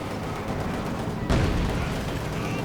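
In the World War II strategy game Company of Heroes 2, a sharp gunfire burst cracks out midway through a dense layer of battle noise, with a T-34 tank and machine gun in action.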